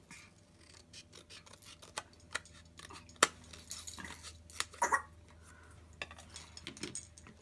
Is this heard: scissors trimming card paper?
yes